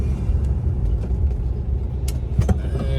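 A 1964 VW Beetle sets off on a test drive, its engine giving a steady low rumble under continuous road noise, with a few sharp clicks and knocks near the end.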